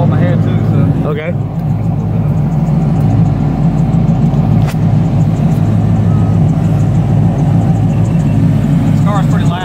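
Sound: loud car engine idling

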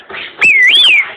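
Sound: whistle blown for brick house dance

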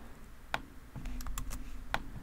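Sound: mouse clicking while drawing with Photoshop pen tool

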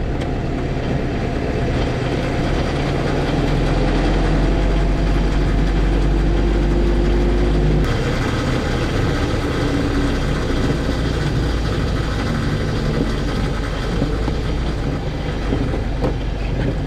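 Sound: classic motorcycle engine running

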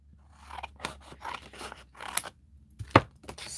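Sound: scissors cutting

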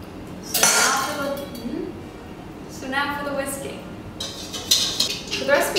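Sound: whisking butterbeer mixture fast in a bowl

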